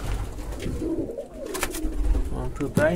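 A pigeon coos close by in low, throaty rolls while someone speaks briefly over it.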